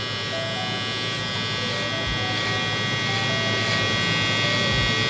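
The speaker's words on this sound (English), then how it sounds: "I'm gonna tilt my trimmer now." Electric hair trimmer buzzing steadily and close up while cutting a low taper fade in a barber setting, a continuous hum with no talk.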